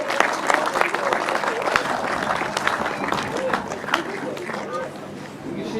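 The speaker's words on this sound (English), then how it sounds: "please a round of applause as they take the photo call" A crowd at a grasstrack race photo call applauds steadily, with scattered claps and some chatter running through the whole stretch.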